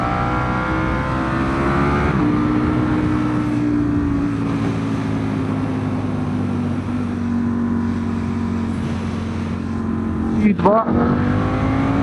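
A 2025 BMW S1000RR motorcycle engine drones and rises in pitch as it accelerates, with a brief sharp rev and dip near the end, heard close under a rider's spoken coaching.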